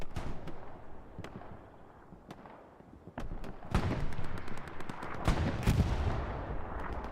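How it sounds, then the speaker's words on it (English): Squad gunfire in Hell Let Loose, sharp rifle and machine-gun shots cracking at irregular intervals, some near and loud, others distant, building into heavier overlapping fire with rumbling blasts. "Doing some good shooting by Brenner and Kadros."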